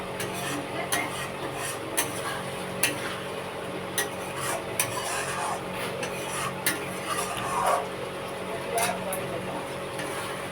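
Egg kosha masala is stirred in a pan with a spoon, giving repeated light scraping clicks at an irregular pace over a steady low kitchen hum, close and moderately loud.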